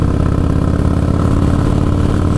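A 1996 Harley-Davidson Softail with an Evo engine rumbles steadily at close range, a loud, even low throb that holds without pause.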